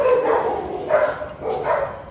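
Dogs barking inside a residential building in Argentina, three loud, close barks spaced roughly evenly with slight echo and no voices.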